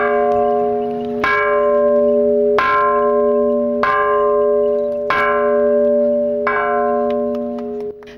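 Newly cast church bell ringing in a Russian town during a city-day celebration: six loud, clear strikes about 1.3 seconds apart, each a rich ringing tone that hums on into the next strike.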